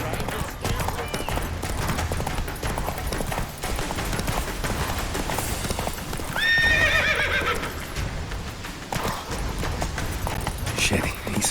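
Geralt's horse Roach runs in The Witcher 3, with continuous hoofbeats under game noise and a brief whinny from a horse midway, while a voice speaks at moments.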